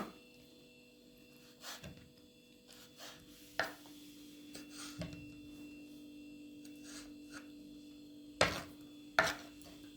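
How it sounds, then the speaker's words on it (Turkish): A knife chops chicken gizzards on a cutting board in irregular, soft taps, fairly quiet over a steady low hum. "Bu şekilde doğrayacağız dostlar."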